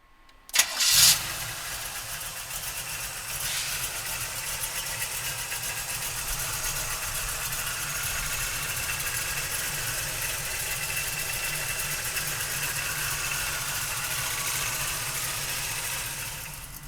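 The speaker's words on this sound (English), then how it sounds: "we're gonna fire up the motor" A 1968 Chevrolet Camaro convertible engine cranks and catches with a quick burst, then settles into a steady, even idle that runs on close by, with no talking.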